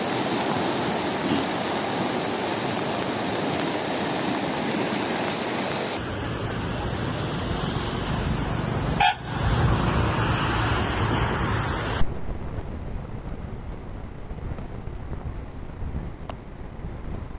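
The flooded Yerala river at Pusegaon rushes past in a dense, continuous roar of water, loud and steady throughout, with brief shifts in tone and a short thump partway through.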